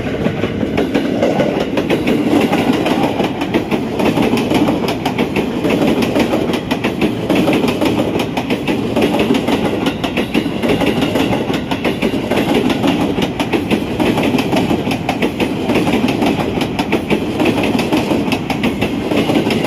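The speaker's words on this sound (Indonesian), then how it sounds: "Apakah ini adalah KLB ke UJR yang akan melintas?" Special KLB passenger train bound for UJR rolling past at a level crossing in Gambir, a loud continuous rumble with rhythmic clickety-clack of wheels over rail joints, no voices.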